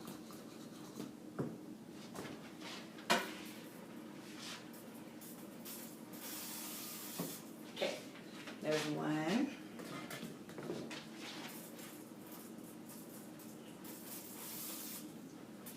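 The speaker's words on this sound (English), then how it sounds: "I'm just going to spritz it with oil." Quick, quiet spritzes of cooking oil hit the tray of a Deluxe air fryer, short hissing puffs mixed with soft kitchen handling noises and brief speech.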